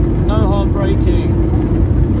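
Loud, steady roar of a Thomas Cook Airlines Airbus A321-231 on reverse thrust after landing at Dalaman, a broad low rumble filling the cabin throughout, with a voice speaking briefly over it.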